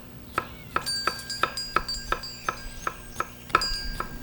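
Knife peeling around a cucumber on a cutting board: a steady series of about ten crisp, evenly spaced clicks and taps, close and clear against a quiet kitchen background.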